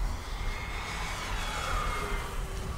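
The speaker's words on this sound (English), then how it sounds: "Coming down nice and slow for you" An E-Flite P-51D Mustang 1.5m RC model plane flies past on a slow approach, its electric motor a steady whine that rises slightly in pitch as it comes by, with no voices.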